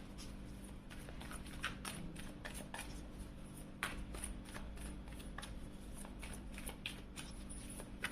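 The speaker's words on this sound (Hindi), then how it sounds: "अब जिसके लिए आप रीडिंग देखना चाह रहे हैं उनके लिए भी हम कार्ड शफल करते हैं" Tarot cards are shuffled by hand, close and quiet: a continuous run of soft papery flicks and riffles with a faint low hum underneath.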